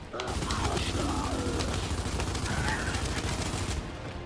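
Enemy weapons fire during a Gears 5 campaign fight: a steady rattling stream of automatic gunfire, loud and sustained for several seconds, with faint voices mixed underneath.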